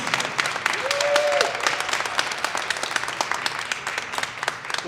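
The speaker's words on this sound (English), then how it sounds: "Let's give our senator another round of applause" A crowd claps for a senator at an Urban League annual meeting in Wilmington, steady dense applause filling the hall, with a brief whistle or cheer rising early on.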